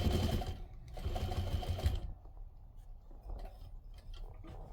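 A sewing machine stitches a patchwork bowl cozy in a quick, close, rapid-fire run of about two seconds, then stops, leaving faint handling noises and quiet clicks.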